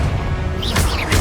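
A Confringo fire spell blasts in Hogwarts Legacy with a loud burst and crash. It lands over a steady rumble, and a few bright whooshing bursts follow in quick succession.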